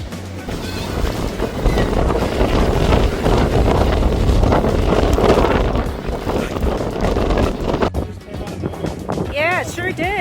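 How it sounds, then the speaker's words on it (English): Steady wind roars across the microphone aboard a Selene trawler at sea in light air, with water washing in the background, then a voice speaks near the end. "my anemometer says it's 8 knots of wind"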